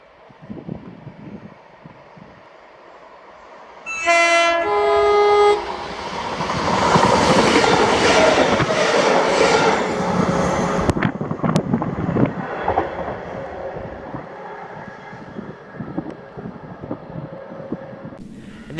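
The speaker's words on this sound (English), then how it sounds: "here came 2F37, the 1424 ScotRail service to Dalmuir from Cumbernauld with 318269" ScotRail class 318 electric multiple unit on a Cumbernauld to Dalmuir passenger service approaches with a loud two-tone horn blast, then rumbles past close by with rising clatter and a long rolling wash that slowly fades.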